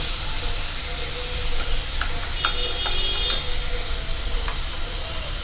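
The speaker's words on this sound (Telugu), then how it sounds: "ఇది వేగుతుంది చూడండి" Tomato masala frying in a pan for a fish curry, a steady broadband sizzle with a few light stirring scrapes, close and alone with no talk.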